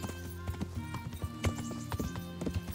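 Horse hooves clip-clopping in the medieval video game Kingdom Come Deliverance, irregular thuds of a walking horse over a quiet game soundscape with faint tonal music.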